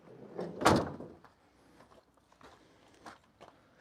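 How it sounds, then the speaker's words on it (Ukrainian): A car door opens with one fairly loud click and thud, followed by quieter handling noises and faint rustling. "Двері відкриваються одним пальчиком."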